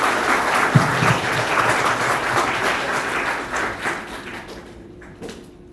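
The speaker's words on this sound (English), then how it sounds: "But if there are no more questions for Jason, let's give him another applause." An audience applauds after a research presentation Q&A, a dense steady wash of many hands clapping that thins and fades out toward the end.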